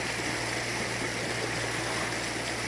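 A Bunyip water-powered pump runs on Vine Creek near Ravenshoe in North Queensland's tablelands, a steady rushing flow of water with a faint low hum underneath, continuous and even, no voices.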